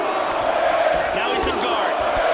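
Brazilian arena crowd roaring and cheering in the UFC 2 video game during the Barao vs Bermudez fight, a loud sustained wash of voices with rising shouts, under a commentator talking.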